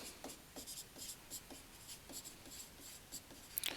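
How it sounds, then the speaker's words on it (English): Writing on a board during a grade 6 maths lesson: a series of soft, quick scratching strokes in an irregular rhythm, faint and alone, with no talking. "I'm going to write that down"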